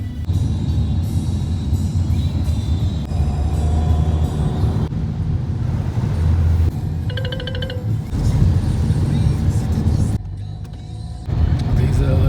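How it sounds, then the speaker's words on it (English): A taxi cab driving along a road in Langkawi on a rainy day, heard from inside as a steady low engine and road rumble with some brief shifts in tone. "Just now got into a cab"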